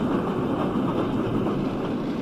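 A 2-6-0 tank steam engine rolls past slowly, giving a steady, close rumbling drone of wheels and running gear that holds even throughout and has no voices over it.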